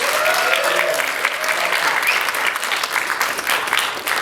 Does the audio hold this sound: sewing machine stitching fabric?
no